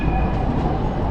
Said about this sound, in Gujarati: આવી રીતેની ટ્રામ ટાઈપ ટ્રેન હશે